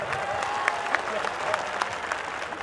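An audience at a mushaira poetry recital in Govandi claps in sustained, steady applause, a dense patter of many hands with a few sharper claps standing out, moderately distant.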